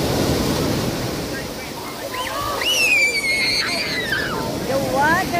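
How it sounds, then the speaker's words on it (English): Ocean surf at Sandy Hook Beach rumbles and washes with wind buffeting the microphone, while people talk and exclaim nearby over the waves. "Taas ng alon."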